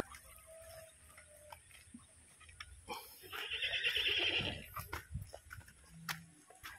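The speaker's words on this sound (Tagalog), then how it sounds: "Tuwan-tuwa po yung kabayo oh" A horse on a rural farm whinnies once, loud and fairly close, a long rising-and-falling neigh in the middle, with scattered clicks and rustling around it.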